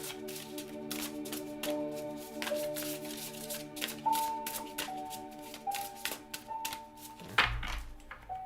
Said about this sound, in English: I need to shuffle these real quick.